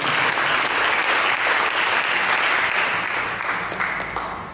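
A church congregation at an Indonesian Sunday sermon breaks into dense, sustained applause for Jesus, loud and steady throughout before tapering slightly at the end.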